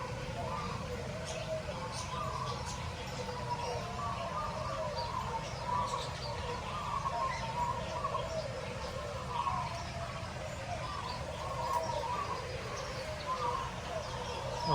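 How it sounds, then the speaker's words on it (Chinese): Many small birds chirp in an Australian bird park, a faint, busy layer of tweets and calls over a steady outdoor hum, with people talking quietly nearby. "哇，这里有太多的小鸟了，"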